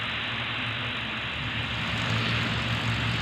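A Bristol Blenheim bomber's propeller engines roar steadily during takeoff, a loud, dense drone with a low throbbing pulse underneath, continuous and close with no voices.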